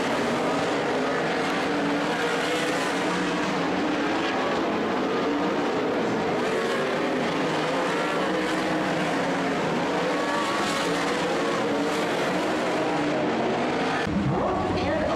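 Sprint cars race a heat on a dirt track, their engines forming a continuous loud roar of several cars at once, steady throughout with a brief dip near the end.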